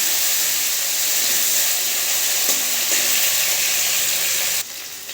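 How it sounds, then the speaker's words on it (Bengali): Chopped vegetables frying and being stirred in hot oil with tempered spices, giving a loud, steady sizzle with a few stirring scrapes, before the sizzle drops off sharply near the end. "এবারে কেটে রাখা সবজি দিয়ে দেব। নেড়ে চেড়ে দেবো।"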